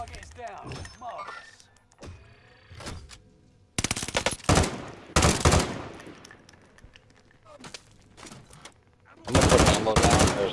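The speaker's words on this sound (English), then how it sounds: "They're shooting at us from the keep." Enemy gunfire in a shooter video game comes in loud, rapid automatic bursts, several of them separated by quieter stretches with voices in between.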